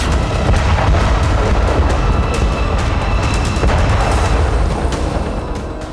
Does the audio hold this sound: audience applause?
no